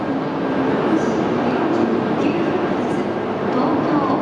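A Shinkansen bullet train sits at a station platform, giving off a steady loud rumble and hiss of machinery and platform ambience, with faint higher tones above.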